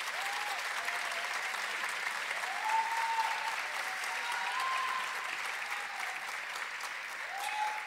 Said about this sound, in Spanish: Fuerte el aplauso para todas las graduadas y graduados